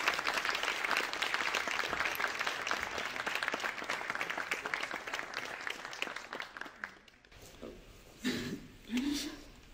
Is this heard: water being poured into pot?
no